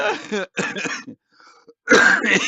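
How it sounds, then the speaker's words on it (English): Coughing from someone with a cold: a few rough, close bursts in two clusters separated by a near-silent pause, loud and alone. "No, I'm coughing because of this cold."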